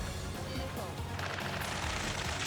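Gunfire in the combat flight game Ace Combat 7 on a mission near a space elevator, a dense continuous rattle of shots and explosions with no break, mixed with radio voices and engine roar.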